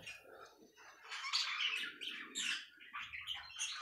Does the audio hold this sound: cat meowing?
no